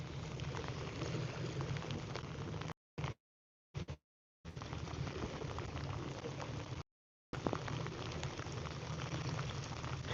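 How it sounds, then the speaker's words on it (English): Steady rain falls in a dense, even hiss outdoors, broken by a few abrupt silent gaps, with no voices over it. "Not if it's raining like this."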